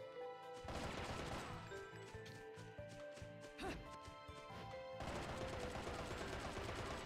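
Dense rapid gunfire from bullets in the Bayonetta action video game, a loud continuous clatter of shots layered over game music and effects, with a brief lull in the middle before the barrage resumes at full strength.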